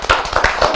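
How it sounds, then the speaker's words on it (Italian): An audience at a Veneto Cup 2014 presentation applauds a young man, with dense close clapping filling the whole short moment at a steady strong level. "Però è bravo questo ragazzo qua, fategli un applauso"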